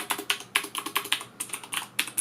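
Keys clack on a CM Storm QuickFire Rapid mechanical keyboard with Cherry MX Blue switches, a close, crisp run of uneven rapid clicks in short bursts, heard alone without talk.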